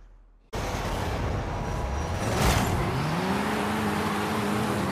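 Engine of an MG MG6 Xpower driven in Forza Horizon 5, cutting in loudly after a short quiet start and holding a steady, close drone, with pitch rising through the revs and dipping once around a gear change.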